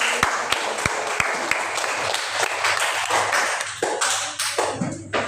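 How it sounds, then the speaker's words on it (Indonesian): Schoolchildren in a classroom clap for a classmate, giving sharp, uneven claps that settle into a looser patter with a few louder knocks near the end. "beri tepuk tangan dulu untuk Asli"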